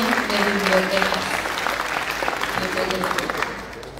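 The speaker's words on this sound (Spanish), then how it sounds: "recibamos con un fuerte aplauso a la maestra Sandra Gallardo González." Audience applause at a Mexican book event welcoming a speaker, a sustained crowd of clapping heard fairly close, with voices talking underneath before it gradually fades toward the end.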